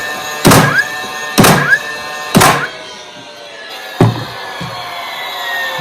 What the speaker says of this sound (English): So it's on bump fire mode, which means that you can just hit it down and it'll keep on nailing.